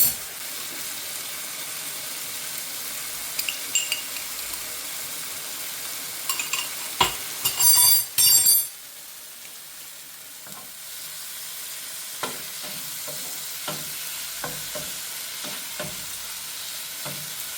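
Garlic fries in a hot pan while beef steak and butter oyster mushrooms are being cooked, giving a soft continuous sizzle. A few sharp spoon clatters and stirring scrapes sound close by, then the frying settles back to a quiet hiss.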